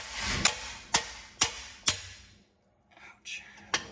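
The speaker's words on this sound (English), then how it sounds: "we're going to hammer back up to knock the nut out" Four sharp, evenly spaced hammer blows ring out on a bolt, driving it back to knock a nut loose during a Mazda Miata 1.8 engine swap, followed by a short pause and a couple of lighter metallic taps.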